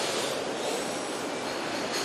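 A train rumbles steadily past close by an outdoor music festival in Hamilton, Ontario, a loud continuous roar of wheels on rail with a squealing edge and no voices over it.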